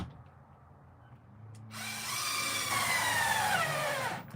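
A power drill drives screws back into a travel trailer, first a short quiet whir, then a loud rising whine that holds for a couple of seconds at close range before cutting off.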